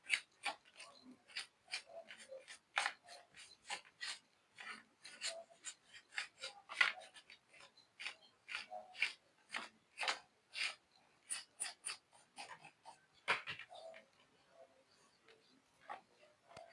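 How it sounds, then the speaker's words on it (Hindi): Brush bristles scrub over a table fan part after it has been opened up, giving rapid, irregular rasping strokes close by, with brief pauses between bursts and no talking. "अब इसे थोड़ा ब्रश से क्लीन कर लेते हैं।"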